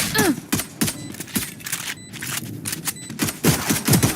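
Rapid bursts of gunfire from the video game Valorant during a tournament match, a loud, dense string of shots and impacts mixed with game effects and some background voices.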